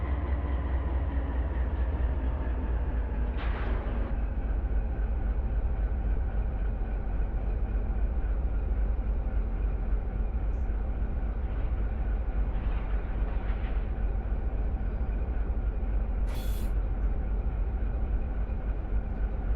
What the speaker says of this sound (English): there's some loud chirping noise coming from your train over there